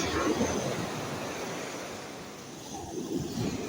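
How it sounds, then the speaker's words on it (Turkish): Black Sea surf rolls and crashes steadily onto the shore, a loud continuous wash of breaking waves with gusty wind buffeting the microphone. "Çılgın Karadeniz dalgaları bakalım bugün bugünden bizlere ne hediyeler getirdi."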